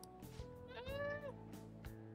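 A cat meows once, drawn out and rising then falling, in the game Persona 5 Royal. It rises clearly over steady background game music, with no talk.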